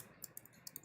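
A few light computer keyboard keystrokes while code is typed, soft clicks spaced irregularly over a quiet background.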